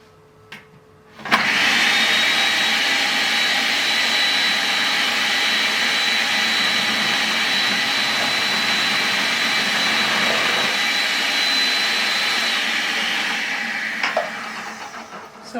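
A Homtone food processor starts abruptly and runs at high speed, shredding firm carrots with a loud, steady motor whine. It holds the whine for about twelve seconds, then winds down with a few clunks at the end.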